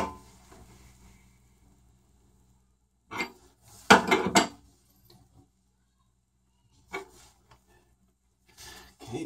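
A 3/4 inch wrench works a stripped faucet seat: scattered metallic clinks and grinding scrapes, with one louder cluster of clanks in the middle and quiet gaps between.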